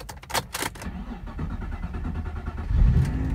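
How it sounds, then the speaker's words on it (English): A vehicle with a faulty camshaft sensor cranking over, a rough low rumbling engine churn rising into a louder surge near the end, preceded by a few sharp clicks and knocks, heard close and alone. "let's crank this vehicle over"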